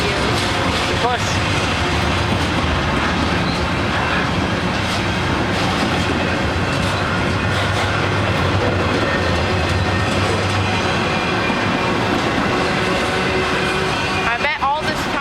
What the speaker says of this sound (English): The train is quite long.